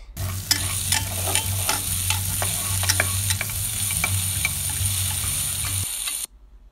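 Garlic, onion and bell pepper sauté in a pan for pork afritada, a steady close sizzle with a low hum underneath and repeated clicks of a utensil stirring, then an abrupt stop near the end.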